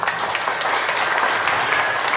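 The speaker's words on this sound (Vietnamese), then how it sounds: "Chúng ta cùng chào đón nhau một tràng pháo tay nữa" Guests at a Vietnamese engagement ceremony clap together, a dense, even wash of applause held throughout, moderately loud, with no speech over it.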